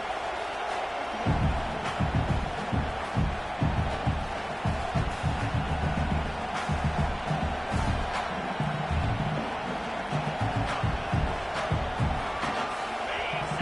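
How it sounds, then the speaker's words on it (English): A big stadium crowd at a college football game roaring and cheering continuously, dense and loud, with shouts and claps rising out of the wash of noise. "this crowd is fired up. Listen to this noise here."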